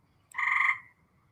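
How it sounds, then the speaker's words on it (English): One close, loud frog croak sounds alone, a short buzzy call lasting about half a second before fading into near silence. "Yep, the frog is talking."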